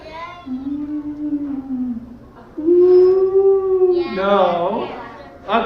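Children at an elementary school reading event imitate a siren going down the street. Their voices make sustained, wavering wails in two long sweeps, loud and close. A rough, rising chorus of voices follows.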